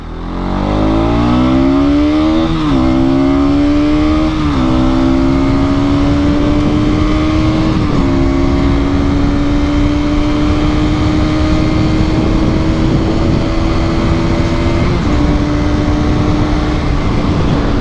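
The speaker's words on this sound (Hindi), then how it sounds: "चलो let's open the throttle once again." Bajaj Pulsar NS 200 motorcycle accelerating with the throttle opened wide, a loud close engine note climbing through several gear changes with brief dips, ending in a long sustained pull amid heavy wind rush.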